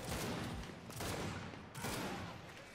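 Rapid gunfire in the Gears 5 shooter game, sustained bursts of automatic fire in three loud surges separated by brief dips, with no talk over it.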